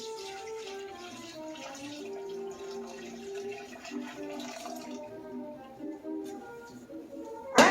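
Whey drains steadily from homemade goat milk cheese, a continuous trickling water sound at moderate level that runs the whole time, ending with a brief sharper splash.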